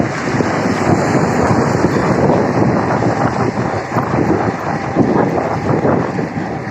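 Steady, unbroken wind roars across the microphone of a cyclist riding to work at about 30 km/h, a loud, dense rush with faint fluctuations and no voices.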